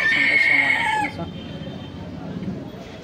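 Roosters crow among a mixed flock of heavy chicken breeds, with a loud, drawn-out crow in the first second, then lower clucking and farmyard rustle carrying on nearby.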